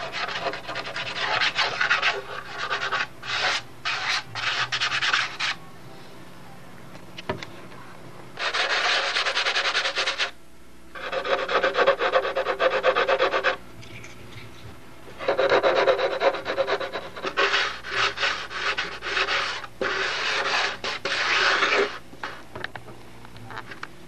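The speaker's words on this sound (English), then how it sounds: "I'm just trying to get the seam sanded smooth and then hit it again with CA" Sandpaper rubs steadily back and forth along the wing seam of a balsa control-line model airplane, a close, loud rasping in long bursts separated by short pauses.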